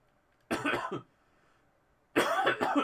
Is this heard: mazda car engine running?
no